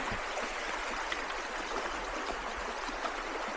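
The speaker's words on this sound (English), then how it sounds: "I think this is Crystal Prawn Creek" Steady broadband rush of creek water flowing continuously at Crystal Prawn Creek on a mountain trail, an even, close babbling wash with no voices.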